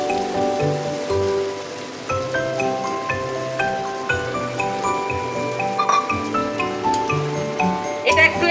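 Water is poured from a rinsed bowl into a pan of Bengali mustard egg curry, a steady splashing gush that runs throughout over background music tones.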